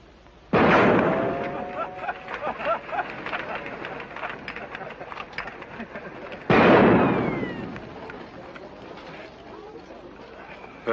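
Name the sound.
gunfire in a film scene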